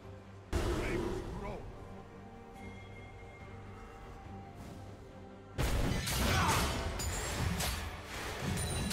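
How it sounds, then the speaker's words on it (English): A turret gets destroyed in League of Legends: a sudden heavy crash and boom, followed by steady game sound with voiced lines over it, then a second loud burst of crashing impacts. "Blue team's turret has been destroyed"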